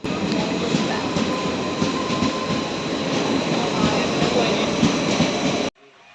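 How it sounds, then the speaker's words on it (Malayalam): A train rumbles past close by with a loud, continuous roar and rattling wheels, then cuts off abruptly at the end. "ഈ ട്രെയിൻ പോകണ കണ്ടത്"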